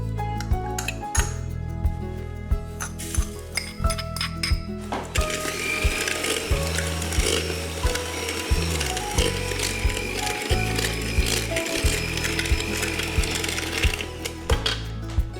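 Soft butter beaten with sugar for cookie dough in an electric mixer, a steady whirring motor hum with rhythmic clattering and ticking of beaters against the bowl, continuous and close.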